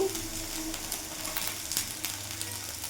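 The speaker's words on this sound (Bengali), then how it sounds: "ভালো করে নাড়াচাড়া করে নেবো" Okra and potato curry frying in a pan while turmeric, cumin and salt are stirred in, giving a steady close sizzle with scraping spoon sounds and no talking.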